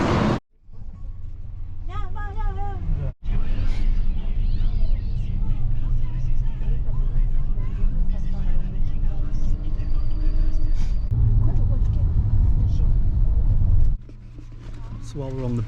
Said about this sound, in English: So while we're on the bus on the way to Chamula